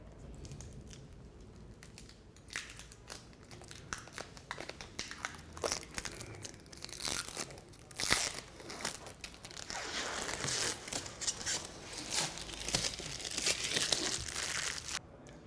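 Protective plastic film being peeled off a MetaDefender K3000 kiosk during unboxing, close crinkling and tearing rustles with irregular crackles that grow busier toward the end.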